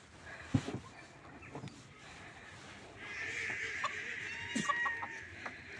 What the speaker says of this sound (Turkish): Paçalı tavukları babam.